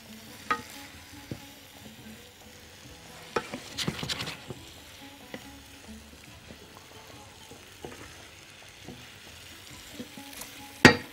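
Chicken and mushroom risotto made with Egyptian rice being stirred in a pan, a soft scraping and sizzling with scattered clinks of the spoon against the pan, loudest around the middle and again at the end.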